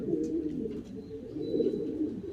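Fancy pigeons cooing softly in a low, continuous murmur that overlaps throughout, with a faint high tone drifting in the background and no talk.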